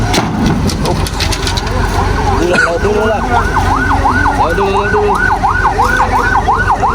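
An ambulance siren wails in a rising-falling cycle as it passes a concrete-pouring job site, joining partway through over a dense, loud engine rumble and clatter of machinery; the siren grows clear and repeats steadily.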